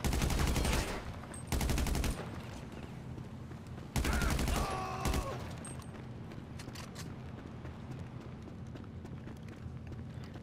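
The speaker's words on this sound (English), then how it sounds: "There we go, the special carbine. I love how it sounds." Special carbine fire in GTA 5: two short bursts of rapid automatic shots crack out, then trail into ambient game noise, footsteps and faint background sounds.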